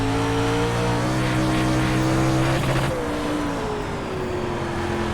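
Pro Late Model race car in iRacing, engine held on throttle with a loud, steady harmonic drone, then a sudden drop in pitch as revs fall and it keeps running lower.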